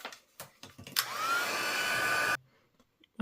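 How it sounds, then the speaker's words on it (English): A craft heat tool blowing hot air over embossing powder on a paper card, a loud steady whirring blast lasting about a second and a half, preceded and followed by small handling taps. "heat it up with the heat tool"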